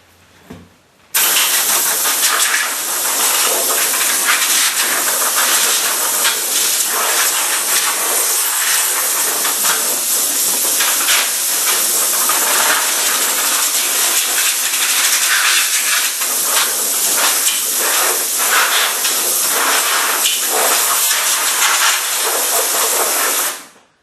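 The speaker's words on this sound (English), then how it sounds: "I'm going to blow the sawdust out the bottom of my saw" Compressed air blasts sawdust out of the underside of a Craftsman table saw in a loud, steady, unbroken hiss lasting over twenty seconds, close up, then cutting off abruptly.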